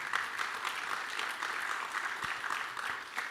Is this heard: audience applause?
yes